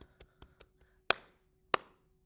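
Hand pats keeping time to a loose tooth rhyme, played slowly: several soft, quick taps, then two crisp, loud slaps spaced apart, up close and alone without voices.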